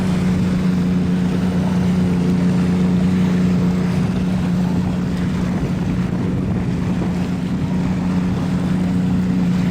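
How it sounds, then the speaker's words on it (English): Strong wind buffets the microphone outdoors in the field, producing a constant loud rumble with a steady low hum underneath and no talking. "so the wind's not really helpful today"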